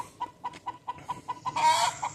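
Chickens in a coop cluck in a steady run of short, evenly spaced calls close by, ending in a louder, drawn-out squawk.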